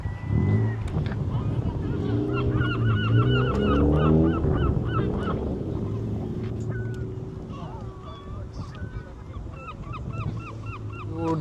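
Seabirds honk and call repeatedly at Sandbanks beach on the UK coast, a steady stream of overlapping cries over constant outdoor background noise, with voices faintly underneath.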